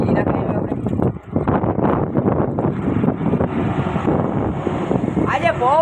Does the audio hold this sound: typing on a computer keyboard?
no